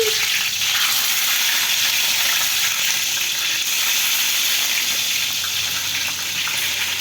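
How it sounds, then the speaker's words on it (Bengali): Small eggplants deep-frying in hot oil give a loud, steady, dense sizzle, close up and unbroken from start to finish, with no voices. "ছাকা তেলে বেগুনগুলোকে ভাজতে হবে"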